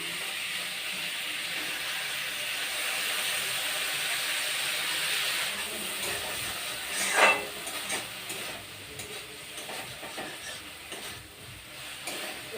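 Tomatoes added to potatoes already fried with ginger-garlic paste sizzle steadily in a pan, a continuous hiss with a brief louder stir near the middle, no voices.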